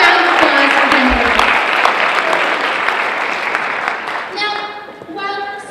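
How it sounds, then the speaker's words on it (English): Audience applause at a school dance competition after the judges' scores, full and loud at first, then thinning out as music with a sung tone comes in over the fading claps. "One more round of applause for Kendall."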